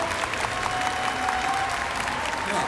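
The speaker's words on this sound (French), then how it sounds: "allez, un petit peu d'applaudissements." Scattered clapping from a small crowd, a steady patter of hands that continues evenly throughout.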